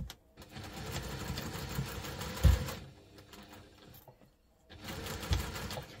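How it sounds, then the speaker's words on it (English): A sewing machine stitches across the ends of a double-compartment crossbody bag in two rapid whirring bursts separated by a short pause, close and moderately loud with no talking. "making sure we're just stitching across the ends"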